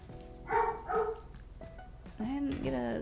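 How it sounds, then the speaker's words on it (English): A dog barks in short, close yips and barks from another room while people chat over a building session, the barks coming in a few separate bursts mixed with the talk. "barking at something"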